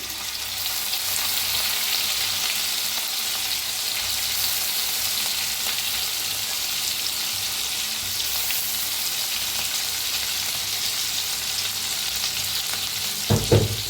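Cumin seeds, asafoetida and crushed chilli and garlic fry in hot oil with a steady, close hiss of sizzling, ending in a brief clatter of stirring.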